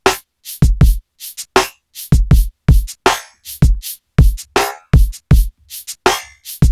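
Metallic, ringing delay repeats with high feedback, shaped by a noise widener effect in Ableton 12.4: a series of short, sharp electronic hits with resonant tails, loud and close, spaced irregularly without any talking.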